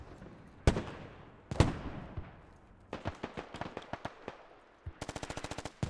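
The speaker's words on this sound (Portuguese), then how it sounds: "Tem uma metralhadora cantando aqui que não é do nosso time" Enemy machine gun fire in the tactical shooter Squad: two heavy single shots, then a ragged series of bursts and a fast, evenly spaced rattling burst at the end, fairly close and loud with no talk over it.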